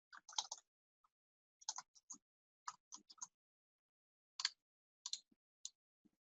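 Typing on a computer keyboard in short irregular bursts of crisp clicks separated by pauses, close and quiet, with no talking.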